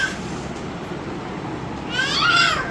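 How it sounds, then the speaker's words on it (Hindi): Near the end, a cat gives one loud rising-and-falling meow, close by, after a stretch of steady background hum. "बिल्ली"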